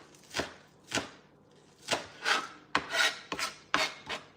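A knife chops green onion on a kitchen board: about eight distinct, close strokes in an uneven rhythm, each a crisp rasping cut, with no talking.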